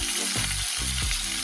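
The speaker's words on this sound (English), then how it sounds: "if you are not hearing that sizzle, when you put your chicken inside of that pot" Loud, steady sizzling of marinated Haitian-style chicken frying in hot oil in a pot, with a few stirring shifts, close up and continuous.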